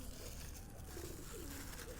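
Low, throaty cooing of a hand-raised Bombay pigeon rolls on for two seconds, close by, over a steady background hiss.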